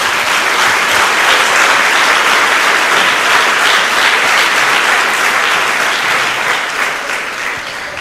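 Church congregation giving a loud, sustained round of applause, dense even clapping from a large crowd close by that holds steady and tapers slightly at the end.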